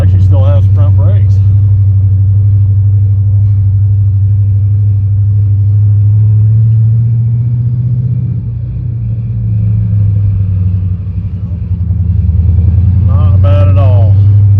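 A 1972 Chevrolet C10 pickup truck engine drives along a road with a deep, steady low rumble, easing slightly midway before building again, with someone talking briefly at the start and the end.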